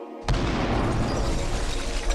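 A sudden huge explosion standing in for the Big Bang, one sharp burst followed by a sustained roaring, rumbling wash that fills the rest of the moment.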